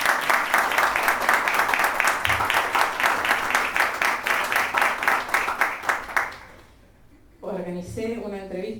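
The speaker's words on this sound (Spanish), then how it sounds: "Un aplauso para él." An audience applauds a percussionist guest at an interview event, a dense, sustained round of clapping lasting several seconds before it fades and a voice starts speaking.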